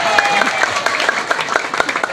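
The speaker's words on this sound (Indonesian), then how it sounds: "Tepukanlah semuanya." A village crowd at a Maulid Nabi gathering claps for the winning men's group led by the village head, with dense, rapid clapping close by and voices mixed in.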